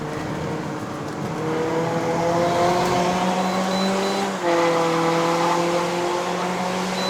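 A 2015 Toyota Corolla Altis 2.0V with its exhaust open climbs the Genting mountain road in Malaysia. A steady, loud engine drone with rising harmonics fills the cabin and dips briefly mid-run before pulling on.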